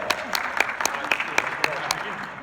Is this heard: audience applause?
yes